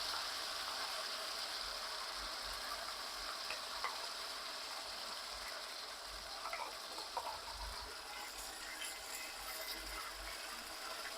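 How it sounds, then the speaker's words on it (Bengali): Spice paste with onion and garlic frying in a pan for crab curry: a steady, continuous hiss and sizzle with faint scraping of stirring throughout. "এবার আমি মশলাটাকে সুন্দর করে কষিয়ে নেব"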